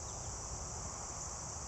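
A cicada and crickets keep up a steady, shrill buzzing drone outdoors among cannabis plants, constant and unbroken with no voices over it.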